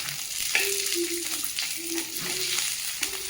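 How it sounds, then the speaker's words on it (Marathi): Onion, ginger, garlic and coriander stems frying in oil, a constant soft sizzle with a few light stirring scrapes and clinks close by. "कांदा अद्रक लसूण हेही त्यावर भाजून घ्यायचे आहे आणि कोथिंबीरच्या काड्याही टाकायचे आहे"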